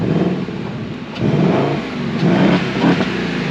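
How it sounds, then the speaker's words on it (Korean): A 2024 Ford Mustang 5.0 GT V8, remote-started in a parking lot, revs alone with no one aboard, rising in repeated loud throttle blips over a steady, rumbling idle. "It makes that iconic Mustang sound just enhanced"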